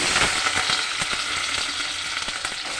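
Potato pieces hit hot oil with mustard seeds and fry in a loud, dense sizzle, with small pops and crackles scattered across a continuous hiss, heard up close with no voices.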